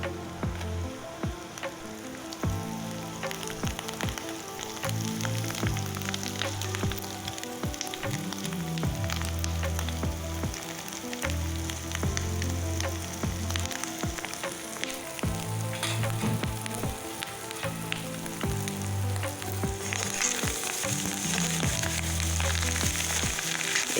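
Big fish eggs fry in a hot pan with a steady, dense sizzle and crackle that runs unbroken and fairly loud, with occasional faint knocks of a utensil and no talking.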